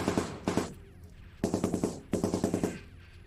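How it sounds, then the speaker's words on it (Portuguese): A machine gun nest firing in a sci-fi audio drama, rapid bursts of automatic gunfire in several rhythmic volleys with short pauses, loud and close. "Um ninho de metralhadora dispara contra nós"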